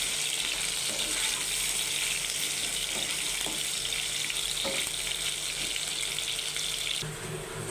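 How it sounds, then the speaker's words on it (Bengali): Potato pieces fry in a pan of leftover fish-frying oil, a steady broad sizzle running throughout with faint clinks and stirring, the hiss easing slightly near the end; no one speaks. "ওই তেলের মধ্যে একটু আলুটা হালকা করে ভেজে উঠাই নেব।"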